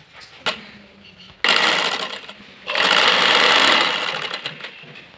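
A sewing machine stitches the fitting seam of a fairy-style frock or maxi dress in two loud bursts, a short run and then a longer steady one, each stopping abruptly, with no talk.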